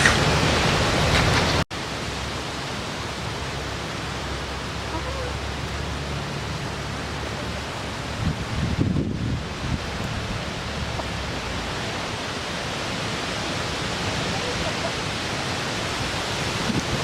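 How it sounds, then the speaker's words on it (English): Water sprays onto an asparagus fern bonsai outdoors on a blustery day, a steady broadband hiss that runs almost without pause after a brief break near the start, with no talking over it. "We better water it."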